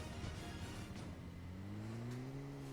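A vehicle drives in the PUBG video game, its engine revving with a rising, sustained tone, heard faintly and continuously without talking.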